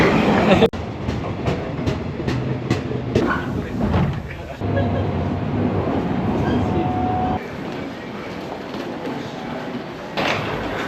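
Tokyo metro subway train rumbling steadily inside the station or carriage, with rhythmic clicks and a sustained hum, a brief tonal whine midway, and people talking over the noise.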